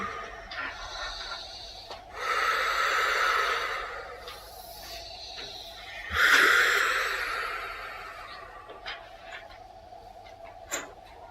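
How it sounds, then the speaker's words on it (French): Slow, deep breaths are drawn and released close by, making long airy rushes that swell and fade, two fuller breaths standing out over a quiet background, with no talking. "c'est de faire quelques respirations lentes et profondes"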